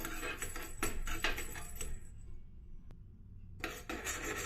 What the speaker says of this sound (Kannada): ಒಂದು ಸಣ್ಣ ಬಾಣಲಿ ಫ್ರೈ ಪ್ಯಾನ್ ಇಟ್ಕೊಂಡು ಒಂದು ಸ್ಪೂನಷ್ಟು ಮೆಣಸು ಹಾಕ್ಕೊಳ್ತೀನಿ ಇದೊಂದು ಸ್ವಲ್ಪ ಫ್ರೈ ಮಾಡ್ಕೊಳ್ತೀನಿ